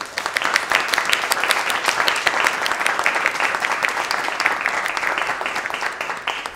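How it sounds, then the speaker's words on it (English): An audience at a literary reading applauds, a full, continuous patter of many hands clapping at steady intensity throughout, with no voices standing out. "I'd like to take a moment to give the Western Front a big round of applause"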